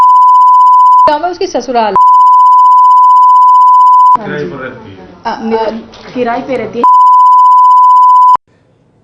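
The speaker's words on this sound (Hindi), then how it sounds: "ये जो बीप आपने सुनी" Flat electronic censor beeps in a Hindi television news report on a rape case hide a victim's identifying details, three sustained loud tones that alternate with stretches of a reporter's speech.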